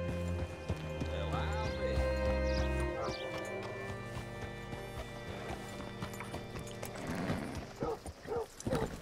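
A horse in Red Dead Redemption 2 clip-clops along with hoofbeats and a snorting whinny, alongside a low rumbling game soundscape and a voice speaking over it.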